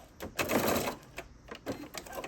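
A sewing machine back stitching at the end of a seam while sewing a jumpsuit pocket, with rapid mechanical needle clatter in short bursts and brief pauses, close and moderately loud.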